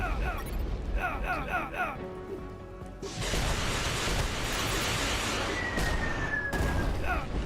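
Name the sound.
grenade explosion and gunfire in video game UnMetal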